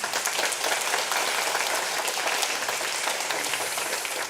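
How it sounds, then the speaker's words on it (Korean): Church congregation applauding to welcome a visiting pastor at a Korean Presbyterian Sunday service in Detroit; steady, dense clapping from many hands fills the room throughout, with no talk over it. "우리 목사님 일어서시면 환영의 박수 드리겠습니다"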